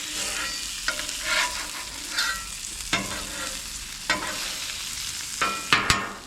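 Sablefish slid around a pan in hot ghee, giving a close, continuous sizzle broken by sharp scraping and shifting sounds as the fillet is moved, no talking.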